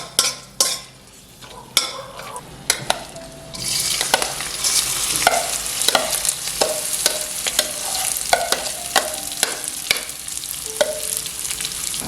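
Rice grains frying in ghee in a kadai for Basanti pulao, stirred with a spoon: a steady close sizzle with repeated scraping strokes and clinks against the pan, after a few sharp taps at the start.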